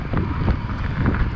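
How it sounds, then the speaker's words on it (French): A strong headwind buffets the camera microphone outdoors near Chapelle Saint-Michel, a loud, rough, low rumbling roar with gusty surges and no clear voices. "Parfois, il y a un sacré vent de face là."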